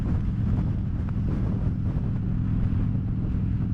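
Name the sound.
wind noise while riding motorcycle on highway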